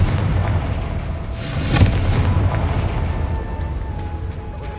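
A Confringo explosive curse goes off in a Harry Potter video game as a single deep boom that swells to a peak midway and then rolls off into a low, fading rumble.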